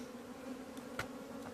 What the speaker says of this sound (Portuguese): Muita abelha já entrou dentro da caixa.